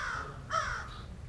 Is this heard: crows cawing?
yes